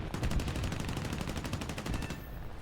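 Rapid machine gun fire from a P-47 fighter in a flight combat video game: a fast, even stream of loud shots rattles steadily for a few seconds without pause.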